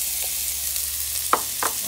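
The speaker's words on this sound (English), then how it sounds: "That's the sound of the onion sauteing." Onions sizzle steadily in a hot pan, a continuous close frying hiss broken by a few soft stirring clatters, with no talking.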